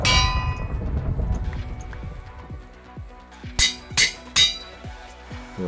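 In the video game Minecraft, during a Hypixel UHC match, an anvil gives a few bright metallic clangs. Three loud rings come close together near the end, after quieter clicks and game noise.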